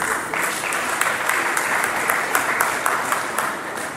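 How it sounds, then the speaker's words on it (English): A university audience applauds a guest lecturer, with steady, dense clapping from many hands that carries evenly at a moderate distance for four seconds. "another round of applause for the guest lecturer"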